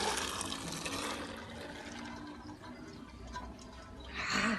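Githeri, a mix of maize and legumes, pours into a Saladmaster pot on a charcoal stove, giving a steady close sliding rush of wet grains that swells again near the end.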